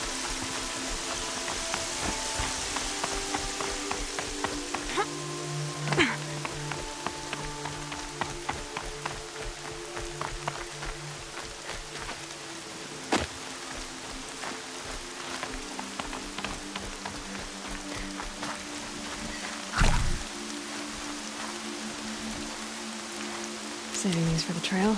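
Steady rain falling on a surface outdoors along a trail, a constant soft patter with scattered louder drops and a few brief knocks over a low background drone.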